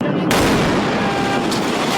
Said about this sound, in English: The bomb squad truck exploding right next to this home